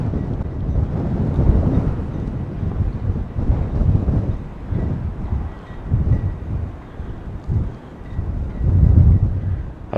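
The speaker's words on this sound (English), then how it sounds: "A bit of wind noise, so it's just a bit" Wind buffets an outdoor microphone on county property, a loud, gusty low rumble that swells and fades without a break across the whole stretch.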